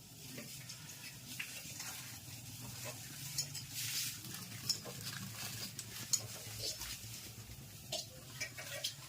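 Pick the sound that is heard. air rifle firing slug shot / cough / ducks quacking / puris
puris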